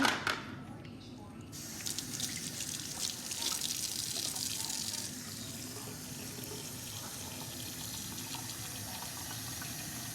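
Water from a tap runs steadily into soaked rice for rice-cooker zongzi, a continuous close splashing, filling stream that settles into a constant flow, with someone speaking softly over it.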